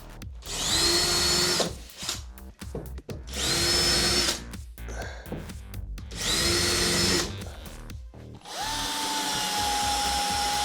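A battery-powered drill backing screws out of a tablesaw, three loud whirring bursts of a couple of seconds each separated by clicks and handling noise, then a longer steady run at the end.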